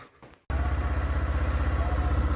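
A Swaraj 855 tractor engine starts pulling out near a sugarcane trolley, bursting in loud after a brief quiet moment and settling into a steady, rhythmic diesel chug close by.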